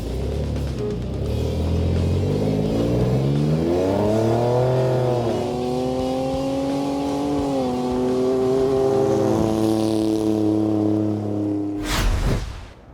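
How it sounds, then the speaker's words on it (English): At the 2019 SEMA show in Las Vegas, a Ford Bronco's engine revs up and climbs in pitch, eases, then rises again as it drives off, close and loud, ending with a sharp burst. "today we're here to take this Bronco for a little run"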